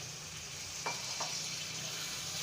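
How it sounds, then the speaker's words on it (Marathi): Water is poured into egg masala in a pan, giving a steady hiss of sizzling broken by two quick splashy bursts, close and fairly quiet, with no talk. "थोडंसं पाणी टाकते मी"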